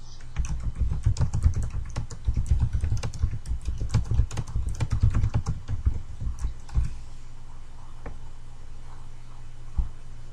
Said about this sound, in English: Oh, she's typing.